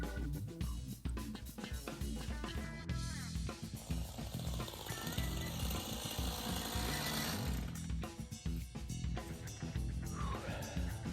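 Stihl hedge trimmer cutting back bushes, a steady buzzing engine drone with rough snapping of branches running continuously throughout at close range.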